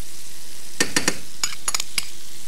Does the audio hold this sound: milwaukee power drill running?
no